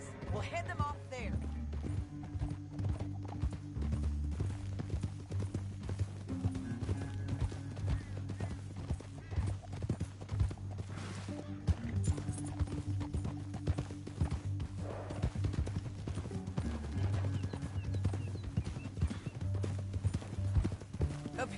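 Steady hoofbeats of a horse being ridden in the Western video game Red Dead Redemption 2, a continuous clip-clop rhythm running the whole way beside game music and an occasional whinny, with voices talking over it.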